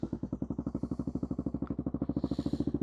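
A Suzuki DR650 single-cylinder motorcycle engine idles unevenly while cold and needing choke, a rapid, steady thumping pulse heard up close and fairly quiet.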